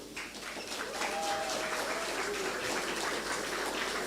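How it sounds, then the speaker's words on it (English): Audience applause for a counselor at a regional and international student orientation, a steady wash of clapping filling the room for about four seconds, with faint voices beneath. "could you actually give him an applause that says, "I'm feeling warm"?"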